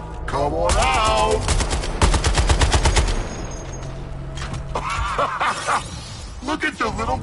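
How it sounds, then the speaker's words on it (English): Rapid video-game gunfire from Suicide Squad: Kill the Justice League, loud bursts of shots mixed with battle effects, heard under and between in-game character voices talking and shouting. "Shoot away, Boomerang!"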